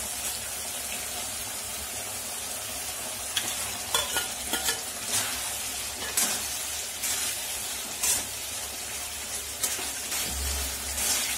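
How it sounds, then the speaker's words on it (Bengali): Eel pieces go into a fried spice masala in a pan, giving a continuous sizzle with repeated scraping stir strokes and soft clinks throughout, close and fairly quiet. "মশলাটা কষে নিয়েছি, এবার মাছগুলো দিয়ে দেব।"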